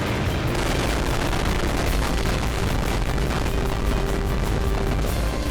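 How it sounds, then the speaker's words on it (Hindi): A powerful undersea explosion detonated near a US warship, heard as a dense, sustained rumbling roar with heavy low-end energy filling the whole stretch, loud and continuous without distinct separate blasts. "एक धमाका, जमीन कांप उठी थी।"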